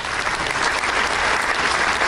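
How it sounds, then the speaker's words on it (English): A recorded applause track plays, dense continuous crowd clapping and cheering at an even level, loud and unbroken for a couple of seconds. "I have an applause track,"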